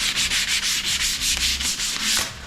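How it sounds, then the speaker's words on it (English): Sandpaper rubbed lightly by hand along a sharp wood trim edge in a hallway, a steady run of about ten short back-and-forth strokes, close and clear with no talk. "So I always like to just go over those also very lightly with some sandpaper"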